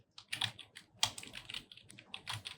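Java code being typed on a computer keyboard, a brisk irregular run of close, light key clicks with short pauses between bursts and one firmer tap partway through.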